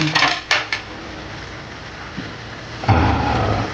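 Vegetables for ginataang sigarilyas stirred in a cooking pot, with a few metal clanks of the spoon against the pot at the start and a rising bubbling, sizzling wash toward the end, loud and close with no talking.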